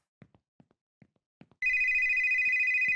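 Footstep-like taps come first, then a telephone in the video game The Store Is Closed starts ringing with a loud, sustained electronic bell tone that continues without talk.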